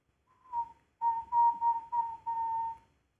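A person whistles a steady, clear tone near the mouth, the first short note followed after a pause by several connected pulses of similar pitch, with no talking.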